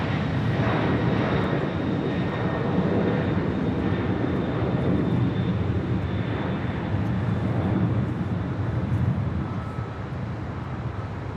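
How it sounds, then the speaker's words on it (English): An Amazon Air Boeing 767, a 33-year-old jet operated by Air Transport International, roars down runway 25 Right at Los Angeles International on its takeoff roll, loud and continuous engine thunder with wind buffeting the microphone. "We have an Amazon Air 767 now rolling on 25 right."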